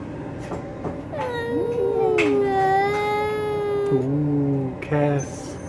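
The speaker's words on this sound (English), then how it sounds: "It's a weird little kitty, isn't it, Finn?" A cat lets out a long, drawn-out wavering caterwaul that bends in pitch, followed by shorter meows, loud and close, with low voices murmuring briefly at the edges.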